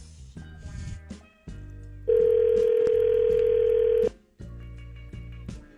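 A loud, steady telephone dial tone holds for about two seconds, framed by quieter background sounds before and after.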